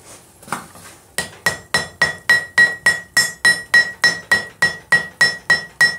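A hammer strikes hot steel in steady, evenly spaced ringing blows while a ball screw for a vice is forged, loud and close, following a few softer taps at the start.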